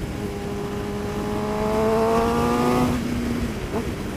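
Suzuki GSXR 750 motorcycle engine revved to about 7,000 rpm, a loud, close rising whine that climbs steadily in pitch, then drops off as the throttle closes, with steady background rumble.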